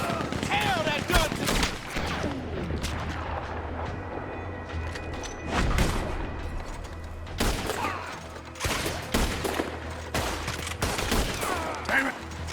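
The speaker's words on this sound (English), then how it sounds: "The Gatling! Look out! He's firing! Hell, that gun!" Gatling gun in Red Dead Redemption 2 firing in repeated rapid bursts from a veranda, loud and continuous, with shouting voices and other gunfire mixed in.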